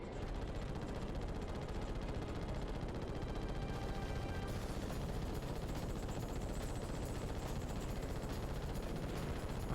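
Rapid missile and gun fire in the Ratchet and Clank video game forms a dense, continuous barrage of loud shots and blasts lasting throughout, with no voices.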